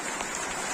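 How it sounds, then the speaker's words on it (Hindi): Heavy rain during an early snowfall on a mountain trek to Madhyamaheshwar, a steady dense hiss of drops on surfaces, moderately loud, in a brief burst with no voices. "बहुत खतरनाक बारिश आ गई है"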